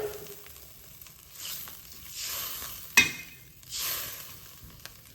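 Half-cooked vegetables in a pan hiss and sizzle in soft swelling bursts as water is poured in, with one sharp metallic clink of a utensil midway and no voices.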